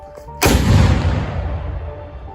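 A single loud artillery shot in a combat zone in the Luhansk region, a sharp nearby blast followed by a long rumbling echo that slowly fades, with no speech.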